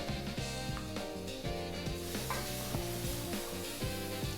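Coconut milk being stirred continuously in a pot of washed glutinous rice for a Filipino sweet, a soft scraping and bubbling texture sitting under steady background music.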